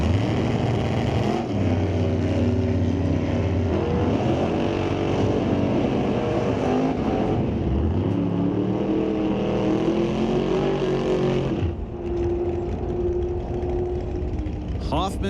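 A Camaro drag race car at Mission Raceway roars loudly, its engine pitch rising and falling through several surges, with an announcer talking over the noise the whole time.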